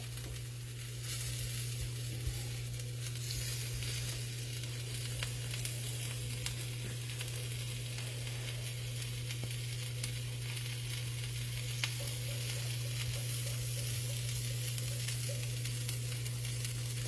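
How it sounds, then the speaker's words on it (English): Steady sizzling of a three-cheese grilled cheese sandwich frying in a pan, continuous and fairly quiet, over a constant low dishwasher hum. "Can you hear it sizzling over the dishwasher?"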